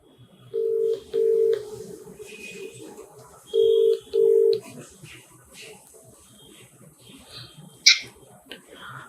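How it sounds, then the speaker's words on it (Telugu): A phone call being placed: a few short electronic dialing tones, then two pairs of steady ringback tones, followed by quiet room noise and a sharp click as the line connects. "వాళ్ళకి ఒకసారి ఫోన్ చేసి మాట్లాడదాం."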